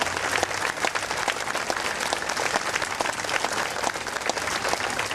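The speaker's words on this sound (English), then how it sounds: "That applause says we remember," A crowd applauds veterans continuously, many hands clapping at an even, lively level for a few seconds.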